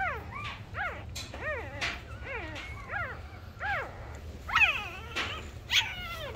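A Bac Ha puppy whimpers and yips close by in a long run of high, rising-and-falling cries that repeat every half second or so, over a low steady hum.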